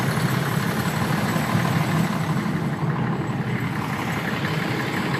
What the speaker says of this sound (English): Sorry for the bus noise, didn't see him coming.